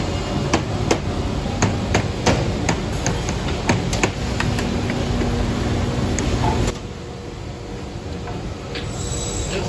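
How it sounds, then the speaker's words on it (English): A sash clamp squares up a wooden window sash and nails it, producing a run of sharp, loud percussive knocks over steady factory machinery hum, the hits spaced irregularly before the background drops quieter. "The clamp squares it up and nails it."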